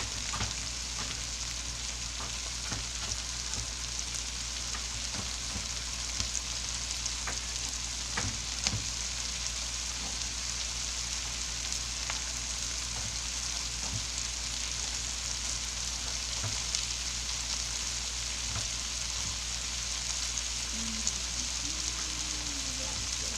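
Carrots sizzle and fry steadily in a hot pot for beef bourguignon, a continuous crackling hiss with scattered pops and a few stirring knocks, close and even throughout.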